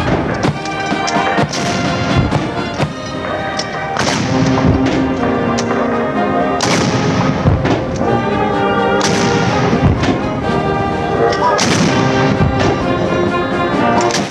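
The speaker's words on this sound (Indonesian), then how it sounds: "diiringi dengan 21 dentuman meriam" Loud, repeated booming blasts of a 21-gun cannon salute at irregular intervals, over a busy, dense background of music and crowd noise.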